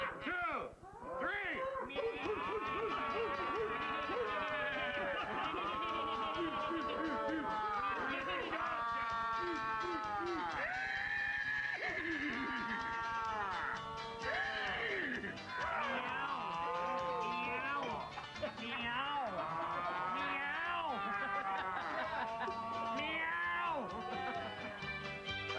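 Group of people loudly imitating animal calls at once, overlapping wails, moans, meows and yowls like a sick cat, dense and continuous for about twenty-five seconds.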